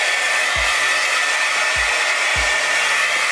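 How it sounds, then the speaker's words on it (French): A hair dryer blowing on shirts runs as a loud, steady close whoosh throughout, with a few low thumps under the airflow. "prendre un sèche-cheveux et sécher les chemises"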